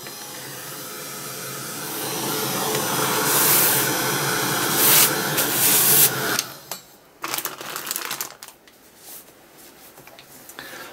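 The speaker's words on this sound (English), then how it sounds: "just grab the heat gun once again" A heat gun blows hot air in a steady, loud whooshing roar for about six seconds, then cuts off, leaving scattered handling clatter nearby.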